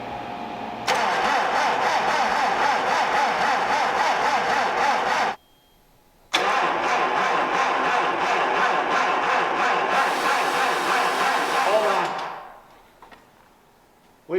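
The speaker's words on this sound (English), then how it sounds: "Cranking slow because this was seized up right here." A car engine with a seized idler pulley cranks slowly and laboriously in a long steady grind, stops briefly, then cranks again for several seconds before winding down, loud and close with no talking.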